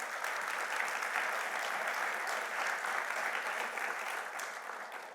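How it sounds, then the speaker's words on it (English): Audience at a university keynote event on sport and human rights applauding honorary guests, a dense, even round of clapping heard from a moderate distance that fades slightly at the end. "So please round of applause for our honorary guests."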